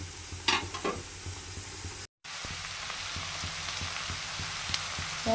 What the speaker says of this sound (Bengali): লাল লাল করে ভেজে নিয়েছি ডালের বড়াটা